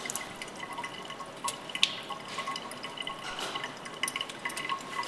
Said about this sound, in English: you'll rinse the slide with water